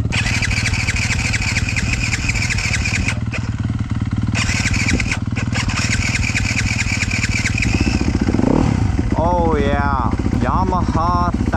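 A dirt bike engine runs loud and close with a steady rough drone, then blips and revs in rising, falling sweeps near the end.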